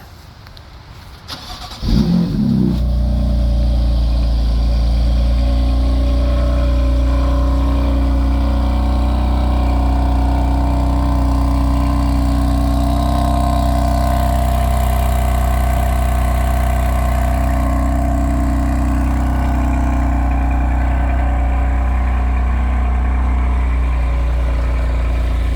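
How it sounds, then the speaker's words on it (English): A 2018 BMW M3 cold starts with a crank and a quick flare of revs, then settles into a loud, steady, deep idle that holds for over twenty seconds with a slight change in tone partway through. "I've got the BMW M3 here ready for a cold start."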